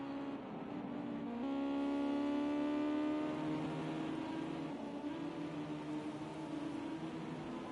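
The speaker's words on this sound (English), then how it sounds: "They can only hear the cars." Racing car engines from Project Cars 2, a GT5 Ginetta Cup race at Zolder, drone and rise in pitch in a steady, loud whine as a car accelerates and holds speed, with no talking.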